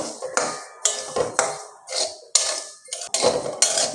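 Broken wheat (dalia) stirred and dry-roasted in a pan, with repeated scraping clinks of a spatula against the metal, irregular and close, no voices.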